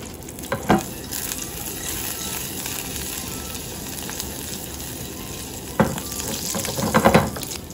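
Garlic and dried red chili sizzle steadily in olive oil in a pan, a continuous close fry with a couple of brief louder stirs and clinks, no voices.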